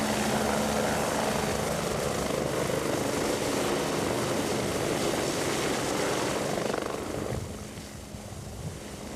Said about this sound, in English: the last of the helicopters lifted up in the air